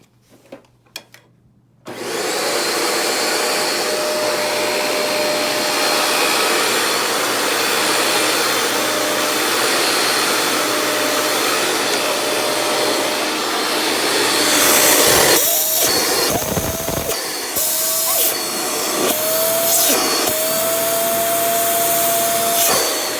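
A collector's vacuum cleaner with a brush roll motor and suction motor, some brush rolls stripped and glued to the axle, starts after a brief pause and runs with a loud, steady whine and hum; clattering bursts later in the run.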